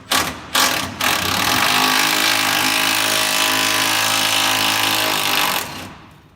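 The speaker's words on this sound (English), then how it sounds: "He's got his Milwaukee drill." A Milwaukee power drill roars loudly and steadily for several seconds after two brief starts, then winds down and stops, while parts are taken off a 1971 Chevy Cheyenne truck.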